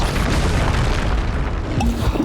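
A dense, roaring blast from the Confringo fire spell in Hogwarts Legacy on Nintendo Switch, a loud sustained explosive rumble filling the moment with crackling debris, no clear voice over it.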